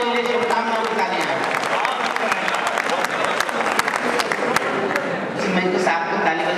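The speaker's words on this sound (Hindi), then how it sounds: "जोरदार तालियां बजाइए मेरे लिए, शुभकामनाओं की तालियां।" An audience at an all-India kavi sammelan poetry gathering in 2009 bursts into loud, sustained applause, many hands clapping densely and steadily throughout.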